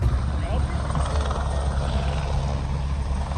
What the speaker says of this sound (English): noticed a Border Patrol helicopter scanning the area